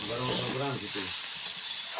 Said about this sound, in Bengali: এবারে শাকগুলো আমি ভালো মতো ভেজে নিচ্ছি।